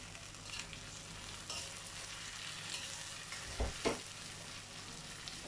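Two large tomatoes sautéing in a pan with cooked aromatics, a quiet steady sizzle with a few stirring scrapes and bumps.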